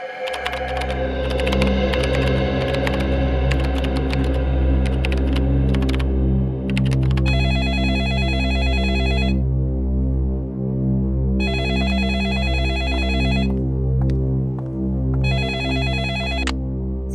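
Telephone ringing in repeated electronic bursts, three loud ring cycles separated by pauses over a continuous low throbbing tone, no talk.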